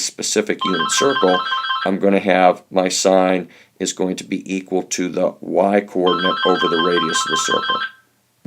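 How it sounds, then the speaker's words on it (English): A telephone rings in repeated electronic bursts at the start and again near the end, sounding over a person explaining trigonometry. "Sorry about that phone"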